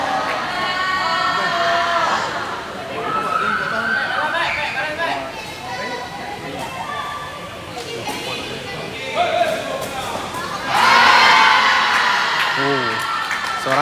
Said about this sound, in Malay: Sorakan daripada para penonton yang hadir.